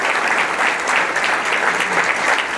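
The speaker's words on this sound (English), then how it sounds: "How about a big round of applause for all our nominees here at the USPA here today?" Audience at the 2022 USPA awards banquet in Independence, Ohio, applauding the nominees with steady, loud clapping that fills the room.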